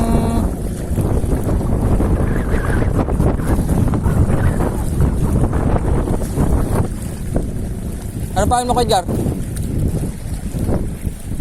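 Loud, continuous wind roars and buffets the mic on open water while fishing with ultralight gear, with a few brief spoken words and a short tonal chirp near the end.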